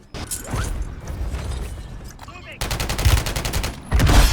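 Gunfire in Call of Duty Warzone 3: bursts of rapid automatic shots crackle close and loud, with a harsh repeating volley after the midpoint and another burst at the end, mixed with mechanical clatter.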